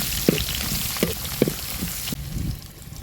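Onions, cloves, cardamom and chopped green chili fry in hot oil for a meal maker gravy, giving a close, steady sizzle with a few soft pops and stirring clicks.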